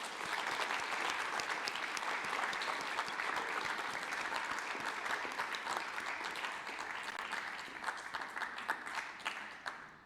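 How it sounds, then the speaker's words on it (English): A crowd in a university auditorium gives panelists at an entrepreneurs club event sustained applause, steady and dense for roughly nine seconds before tapering off. "Can we have a huge round of applause for our panelists?"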